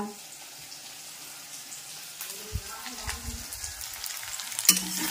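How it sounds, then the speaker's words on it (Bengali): Onion, garlic and green chilli fry in a home kitchen pan, giving a steady low sizzle with a few louder crackles and stirring scrapes toward the end, close and moderately quiet. "আর এইখানটা পেঁয়াজ রসুন আর কাঁচা লঙ্কা ভাজছি"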